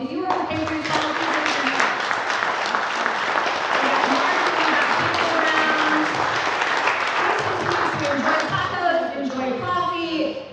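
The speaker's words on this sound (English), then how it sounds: "Let's give another big round of applause to Scott and the Patriots Hall team." An audience at a veterans' community coffee and expo gathering in a hall gives sustained, full applause with dense clapping throughout, while voices and cheering mix in underneath.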